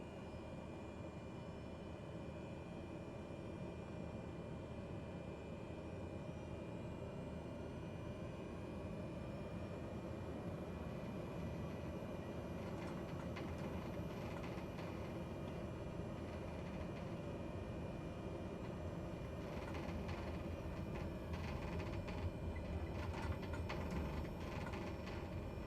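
A Cessna 208 turboprop engine sits at high idle in Microsoft Flight Simulator 2020, a steady, even whining drone with a low rumble that holds for the whole stretch, with no voices over it.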